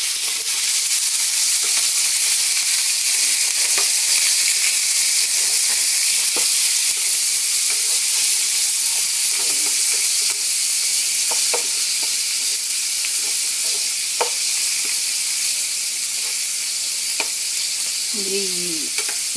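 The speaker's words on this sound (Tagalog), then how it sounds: "Uunahin natin na i-fry yung ating" Pork frying in a pan, a steady loud sizzle and hiss that runs unbroken, with occasional small pops and stirring clinks.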